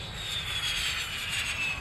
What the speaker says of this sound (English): the F-16, it's called a high-speed taxi, so he starts at one end of the runway and powers up